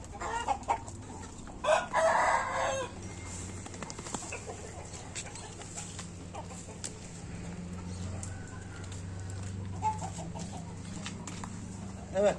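Chickens clucking on a farm with a rooster crowing once loudly up close, over a continuous murmur of fowl and a low background hum.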